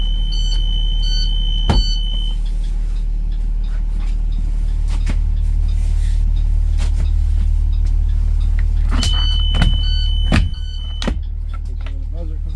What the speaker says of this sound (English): Where the buzzer works when they open to a 90.